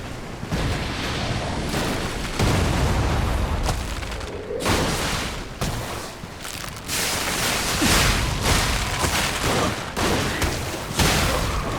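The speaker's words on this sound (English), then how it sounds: "Cluster grenade" Cluster grenade going off in the video game Lies of P, with a rapid string of loud, close blasts and crackling bursts lasting several seconds.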